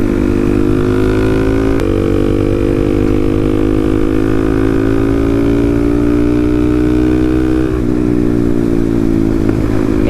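Loud, steady buzz of a 250cc Honda Monkey motorcycle engine while riding, holding a smooth, even drone with a slight pitch rise, one short shift-like break near the end, and no talking.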